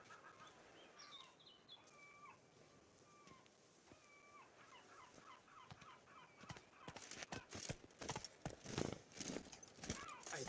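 Horse hooves clip-clopping in The Witcher 3, first quiet under birdsong and then building into a dense, steady run of hoof beats near the end.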